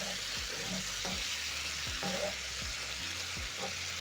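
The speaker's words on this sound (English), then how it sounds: "Stir the tomatoes into the minced meat, and this is going to also deglaze the cast iron pan." Canned tomatoes and minced beef sizzle steadily in a cast iron pan, a constant close frying hiss with soft scraping stirs at intervals.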